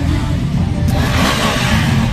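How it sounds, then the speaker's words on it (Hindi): Superbike engines revving loudly amid a big crowd of superbikes gathered outdoors, a dense, continuous roar with a brief whoosh partway through, no talking. "बिग बाइक मेरी जान, बिग बाइक।"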